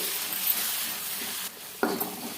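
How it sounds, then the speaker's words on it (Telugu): Turmeric, green chillies and curry leaves are stirred through hot frying oil, giving a steady sizzling hiss with a brief scrape of the spoon near the end. "అలాగే రెండు కట్ చేసి పెట్టుకున్న పచ్చిమిరపకాయలు కొంచెం కరివేపాకులు వేసేసుకొని ఒకసారి కలిపేసుకోవాలి"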